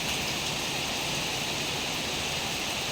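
Steady rain pours down over a durian orchard, a dense even hiss that holds constant throughout without pauses or voices.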